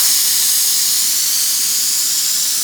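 A pressure cooker whistle releasing steam, a loud, steady high-pitched hiss that holds without a break from start to finish.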